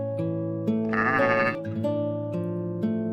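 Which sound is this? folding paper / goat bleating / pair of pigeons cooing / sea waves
goat bleating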